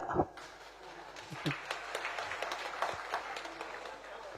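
An audience at a morning Jain sermon by a monk claps quietly and sparsely, with scattered soft claps heard at a distance and some talk mixed in.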